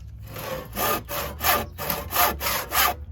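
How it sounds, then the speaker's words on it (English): A hand saw cuts through wood in steady back-and-forth strokes, about five or six rasping passes, close and clear with no talking. "trick to sawing is not to push too hard"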